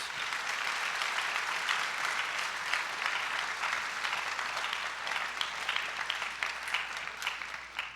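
A big crowd at a high school senior celebration claps in a steady, continuous wash of applause, somewhat distant and even throughout.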